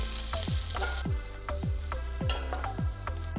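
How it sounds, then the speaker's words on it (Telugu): A large onion, sliced lengthwise, fries in three teaspoons of oil in a pan with a steady close sizzle and crackle, stirred in regular rhythmic passes, with no talking. "ఒక ప్యాన్లో 3 టీ స్పూన్ల నూనె వేసి అందులో పొడవుగా తరిగిన ఒక పెద్ద"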